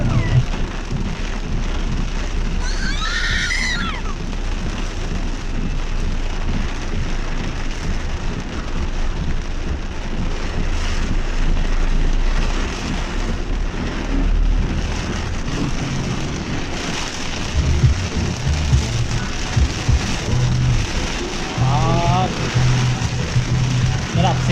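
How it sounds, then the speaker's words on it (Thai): Heavy rain pours steadily and densely in Wang Saphung, Loei, Thailand, a constant loud hiss with a few faint bird chirps breaking through. "อีสานฝนตกหนักแล้ว"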